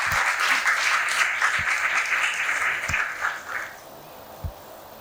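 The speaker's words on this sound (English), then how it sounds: "A round of applause for him as well, please." Audience applause at a panel discussion, a steady wash of clapping that tapers off near the end, with a few low thumps.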